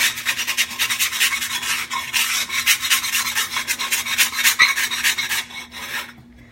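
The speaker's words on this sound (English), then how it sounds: "the pan scraper helps it come right off" A pan scraper rasps across a stoneware pan in quick, rhythmic back-and-forth strokes, close and harsh, then fades out after about six seconds.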